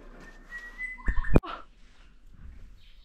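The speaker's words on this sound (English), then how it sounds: "Can you hear the birds?" A bird gives a short, sharp whistled call with a rising and falling tone in an outback national park, Lawn Hill in Queensland, heard once, fairly close against quiet wind and rustling.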